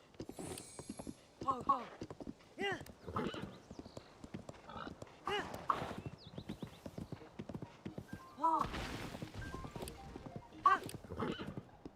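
Horse hooves clip-clop in Tears of the Kingdom, with whinnies and mechanical creaks mixed into the game sound while someone talks over most of it.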